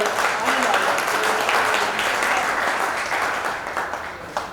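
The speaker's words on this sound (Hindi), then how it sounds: "अगर अच्छा और सुनाने लायक हो तो एक बार ताली बजा दो" Audience at a Hindi comedy poetry show breaks into sustained, dense clapping that holds steady for several seconds before tapering slightly.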